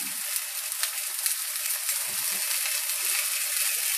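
Burgers frying in oil in a pan that is too small, a steady bright hiss and crackle of sizzling fat running throughout, close and constant with a few low knocks underneath.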